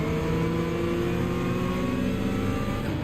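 A race car in Gran Turismo 7 at Catalunya, with a steady loud engine drone as the car brakes hard and the engine note holds, continuous and close with no talk.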